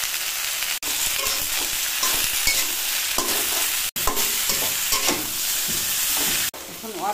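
Potatoes and cauliflower fry in a pan with turmeric and salt, a steady close sizzle broken by repeated scraping stirs and clanks, with two short cuts to near silence along the way.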